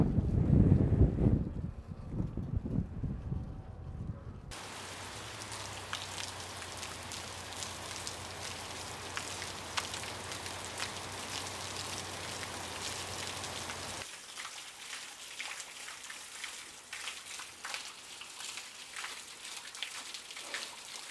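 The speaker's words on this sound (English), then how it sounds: "While it's raining outside" Outside a barndominium under construction with a metal roof, rain hisses steadily for most of the stretch, with wind buffeting the microphone at the start, then dropping to a faint patter near the end.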